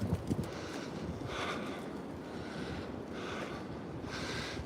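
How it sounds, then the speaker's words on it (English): Strong wind blows outdoors in a steady roar with microphone buffeting, rising in broad surges every second or so, loud and continuous with no voices. "with this wind blowing up here, and we got a bunch of wind advisories out"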